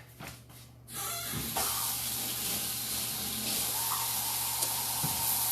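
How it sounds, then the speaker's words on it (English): A pork shoulder rinsed under a running kitchen tap, a steady close hiss and splash of water that starts abruptly after a short quiet stretch and continues evenly, with no one talking. "let me just wash this off real quick"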